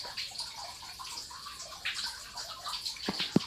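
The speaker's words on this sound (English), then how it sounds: "as you hear the sound of water running" Water runs continuously through a catfish hatchery flow-through system, a soft steady splashing and trickling with a few sharper drips near the end, no voices.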